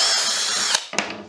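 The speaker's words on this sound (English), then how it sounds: "just drill a 6mm hole in the end of our 2" A power drill bores a 6mm hole into the end of a long wooden piece for a homemade clamp, a steady high whine lasting most of the moment before cutting off, followed by a couple of short bursts as the bit restarts.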